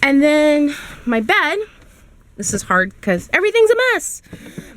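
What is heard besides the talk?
No everyday noise stands out behind the speech.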